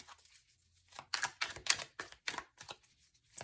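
Tarot cards shuffled and flipped by hand, a run of quick, crisp papery riffles and snaps, close and fairly quiet, with no voice over them.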